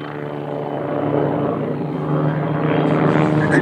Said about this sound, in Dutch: Captain Olaf Langanki vliegt deze Bulco 105 van de Luftwaffe.